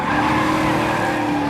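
A stunt car spins through 180s and 360s, tires squealing in a sustained, loud skid over a steady engine roar.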